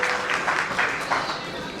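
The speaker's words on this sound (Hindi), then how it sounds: "जोरदार तालियां" A short burst of crowd applause, many hands clapping together for under two seconds, with some voices mixed in.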